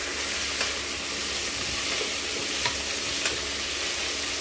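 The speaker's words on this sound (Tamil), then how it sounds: "கொத்தமல்லி இலை நல்லா வதங்கிட்டோம்" Coriander leaves sautéing in a pan for country chicken biryani, a steady close sizzle with a few faint stirring clicks, heard alone with no talk.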